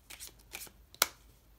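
Emperor playing cards handled and riffled, a few soft papery shuffles and flicks, then one sharp snap as the deck is fanned or squared, close and fairly quiet.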